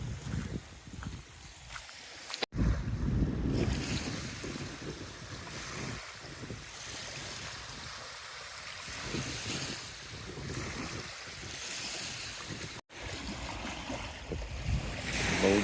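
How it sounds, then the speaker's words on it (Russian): Small waves lap steadily on the shore of a huge elongated lake, a continuous broadband wash with gusty wind buffeting the microphone throughout and two brief dropouts. "И волны небольшие"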